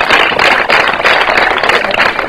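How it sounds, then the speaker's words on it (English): A crowd applauds a former school prefect with steady, dense clapping, loud and close, lasting a couple of seconds without pause. "Clap for him again."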